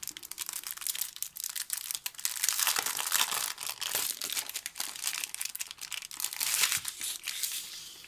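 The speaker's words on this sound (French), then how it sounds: "c'est un moule que je veux depuis plusieurs mois déjà et j'ai enfin eu l'opportunité de le prendre. Je le déballe avec vous." Packaging around a Prima Marketing bottles mould is unwrapped up close, with continuous crinkling and crackling of plastic that rises and falls in irregular bursts.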